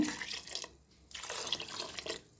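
Water is poured into a pot of basale (Malabar spinach) greens curry, giving two broad splashing pours in quick succession, fairly close and moderately loud, with no talk.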